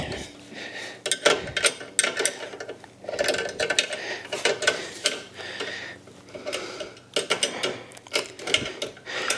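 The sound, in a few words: 10mm line wrench tightening car brake lines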